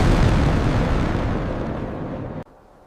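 A big rumbling explosion in an audio story: a broad, loud roar that holds and slowly fades, then cuts off abruptly.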